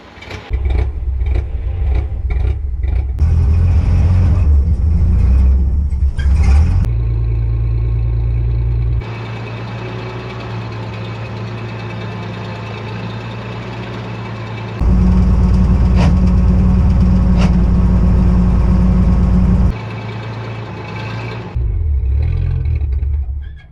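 A Coleman MB4/G40 4x4 aircraft tug engine cranks and catches, then runs at a loud, steady idle with its rumble shifting between levels as it settles, ending abruptly when it cuts out.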